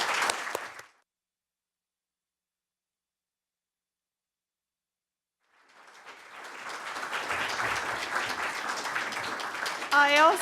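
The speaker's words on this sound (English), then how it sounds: "Please join me, ladies and gentlemen, in a very warm round of applause for our guest speaker." Conference audience in a hotel applauding a guest speaker: after a brief snippet of voice and several seconds of silence, a full round of clapping fades in and builds to a steady, fairly loud crowd applause, with a voice cutting in at the close.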